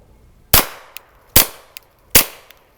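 Three evenly spaced, sharp suppressed rifle shots through aluminum and titanium K-baffle suppressors, each a muffled crack followed by a faint metallic tick, close by with no talking.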